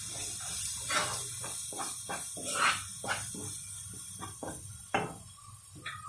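Dried grated coconut is sautéed in a pan with a steady frying hiss, broken by a spatula scraping and clinking against the metal at irregular moments.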